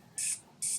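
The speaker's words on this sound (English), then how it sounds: "I'm going to give it a spray, a little spritz" A makeup setting spray gives two quick, close spritzes, each a short bright hiss with a brief pause between.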